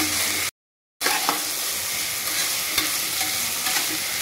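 Beans, potatoes and eggplant pieces stir-fry in a pan with a steady loud sizzle and occasional clinks of stirring, broken by a half-second dropout near the start.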